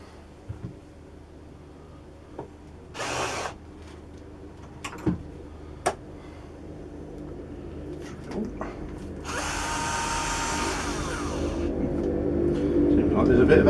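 A hammer drill whirs in a couple of short bursts among knocks and clunks, then runs longer and louder as a steady buzzing grind.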